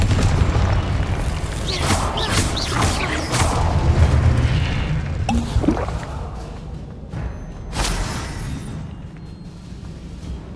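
A Confringo blasting spell goes off in a Harry Potter video game, with booming explosive bursts and sharp pops over a rumbling background, loud and close, then several quieter impacts as it fades.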